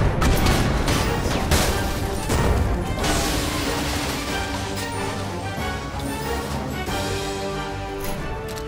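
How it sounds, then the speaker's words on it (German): Cannon fire in the mech combat video game Ironcast, a dense volley of heavy booming shots and crashing impacts over a continuous battle din, loud throughout. "Oh, wir schießen direkt 3 Schuss ab wegen der Overdrive Node."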